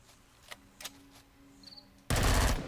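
Gunfire from a weapon in the sci-fi survival game Empyrion Galactic Survival, a loud dense burst erupting suddenly after a few faint clicks and a quiet high tone, with no talk.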